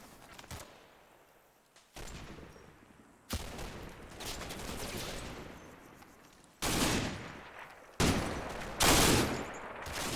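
Small arms fire crackles at night in the wargame Combat Mission, with scattered rifle shots and machine-gun bursts across a field, some bursts distant and faint, others loud and close.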